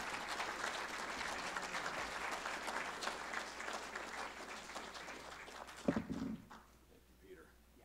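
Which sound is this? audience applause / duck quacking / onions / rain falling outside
audience applause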